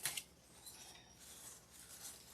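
Scissors snip through deco mesh ribbon for a fall wreath in a couple of quick, faint cuts right at the start, then a quiet, soft rustling follows.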